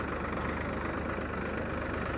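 A tractor engine idling, heard as a steady, even low rumble that runs unbroken throughout at moderate distance, with no voices.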